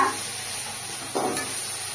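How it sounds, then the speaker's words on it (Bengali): Spice masala sautéed in a pan for a kundri (ivy gourd) curry gives a faint steady sizzle with a brief stir of the spatula partway through. "এই মশলাটা দেখুন কষানো প্রায় হয়ে যাচ্ছে। আর 1 মিনিট মতো কষাবো।"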